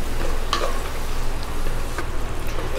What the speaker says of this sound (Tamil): கருவேப்பிலை போட்டாச்சு.